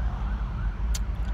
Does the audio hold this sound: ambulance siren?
yes